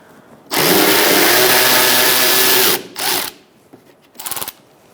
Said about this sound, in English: taking out this bolt with a 10mm socket